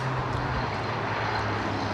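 Aircraft taxiing out for departure at London Heathrow Airport, a continuous loud jet engine roar heard steadily throughout the short moment.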